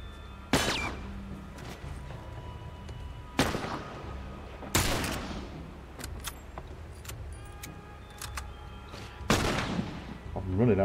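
Sharp gunshots from The Last of Us Remastered, four or five loud separate blasts spaced a second or more apart over a quiet backdrop, with faint ringing tones between them.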